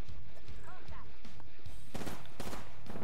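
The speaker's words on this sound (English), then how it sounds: "Someone behind us shooting at me." Gunfire in Apex Legends during an SMG-only match, sharp bursts of shots crackling in quick succession and growing denser toward the end, with a player's voice talking over the action.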